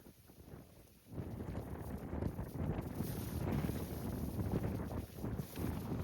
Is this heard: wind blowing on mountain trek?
yes